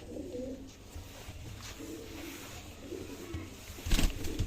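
Pure white pigeons coo softly in a loft, with repeated low, throaty coos at an even pace and a flutter or scuffle near the end, under faint background noise.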